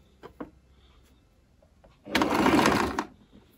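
A sewing machine stitches lace onto trouser pleats in one short, fast whirring run of about a second, preceded by a few faint handling clicks.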